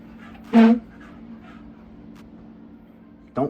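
A dog gives two short whimpers, one early and one near the end, separated by quiet, faint background noise.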